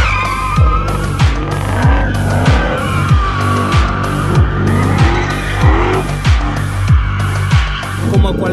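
A Ford Shelby GT500 drifts with its tires squealing loudly and continuously over a roaring, revving engine, with rhythmic pulses as the car slides.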